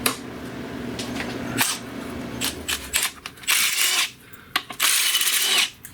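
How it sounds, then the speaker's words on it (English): A ratchet clicks in bursts while undoing bolts on a Kia Sedona transmission, close and loud, with short fast ratcheting runs separated by pauses and light metallic handling. "let's undo some bolts."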